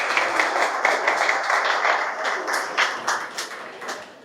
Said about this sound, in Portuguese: vamos dar uma salva de palmas a eles